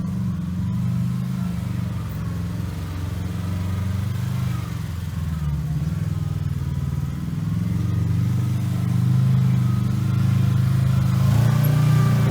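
A Kawasaki KRX 1000 UTV engine drones loud and close as it climbs a tricky sand trail at Sand Hollow, Utah, a steady low rumble that swells near the end as the throttle opens.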